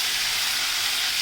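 Fish sizzles in hot oil in a pan, a loud, continuous broadband hiss with no pauses or voices.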